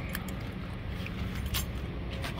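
Keys jangle in bursts of light metallic clinks while someone searches a bunch for the right unit key, close and fairly quiet over a steady low hum of a nearby vehicle.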